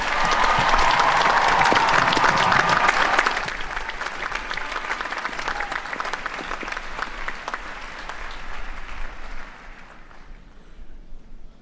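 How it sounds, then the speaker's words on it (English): A large graduation crowd at a university final exercises ceremony applauds for families, dense and loud for a few seconds, then thinning and softening before fading out near the end. "Students, would you please join me in a round of applause for your families?"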